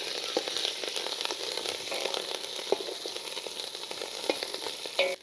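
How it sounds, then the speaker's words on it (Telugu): Thinly sliced green chillies and curry leaves sizzle in hot oil in a pan over a clay stove, giving a busy, even crackle with occasional stirring taps. It is moderately close and has no talk over it. "ఈ 3 వేసేసి వేపుకుందాం. దీంట్లోనే కొంచెం కరివేపాకు వేస్తున్నాను."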